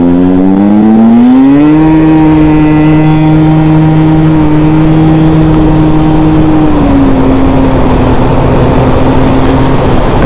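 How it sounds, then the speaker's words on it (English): A small motorcycle accelerates hard, its engine droning at a steady high pitch that rises at the start and drops slightly near the end, loud and close with strong wind rush. "this little bike really rips hard for what it is."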